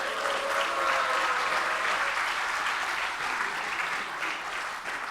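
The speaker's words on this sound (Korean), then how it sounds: "불안에 떨고 있는 저한테 박수 한번 보내주십시오" Party members at a Democratic Party preliminary convention applaud for a leadership candidate, a broad, even wash of clapping from a large crowd, fairly distant and sustained throughout.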